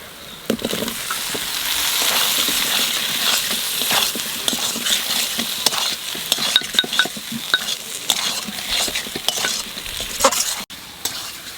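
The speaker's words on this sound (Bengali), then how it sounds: "আজকে মশলার সাথে কষিয়ে রাঁধবো" Pieces of a large stingray are sautéed with ground spice paste in a village-style pan, a loud continuous sizzle under repeated scraping and clattering strokes of a stirring spoon.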